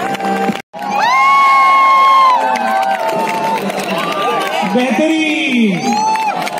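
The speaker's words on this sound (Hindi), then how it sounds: "एक बार जोरदार तालियां हो जाएं।" A large crowd at an Indian Army camp show in Pune cheers and whoops loudly, with children shouting over continuous noisy applause.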